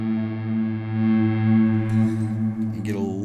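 Electric guitar played through a Cortado hall reverb and a Tweed drive pedal with fat and diode switches on, giving a sustained, distorted chord that swells with reverb, then a brief burst of picked notes near the end.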